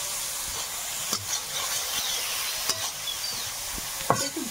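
Shrimp dropped into a hot pan of oil with bay leaves, a continuous moderate sizzle punctuated by several sharp stirring clicks and spatters.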